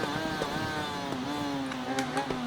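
A motorcycle engine in the video game Ride 3 revs and drones with a steady, slightly rising pitch, loud and close, running continuously.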